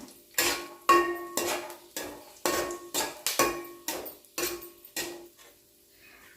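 A spoon scrapes and clinks against a pan as peanuts and cashews are stirred in hot oil with dried red chillies, in a rhythmic run of about a dozen close, distinct metallic strokes separated by brief quiet gaps.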